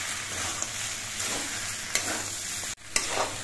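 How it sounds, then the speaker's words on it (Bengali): A spatula stirs water spinach curry with ground roasted spice in a pan: scraping strokes and sharp clacks over a low, continuous sizzle, with no voices. "এবার নেড়ে চেড়ে মিশিয়ে নিতে হবে।"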